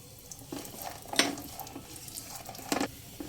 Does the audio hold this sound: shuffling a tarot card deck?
no